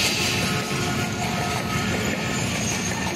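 The Jaffar Express thunders across the Ravi railway bridge at Shahdra Bagh, a loud, continuous rumble of wheels and carriages close by with no pause.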